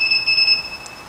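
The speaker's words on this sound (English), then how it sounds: "So we rotate the wheel until the machine beeps." A Weaver W-987 wheel balancer emits a steady high electronic beep for about half a second, with a second tone continuing beneath it, then fades out over quiet shop background.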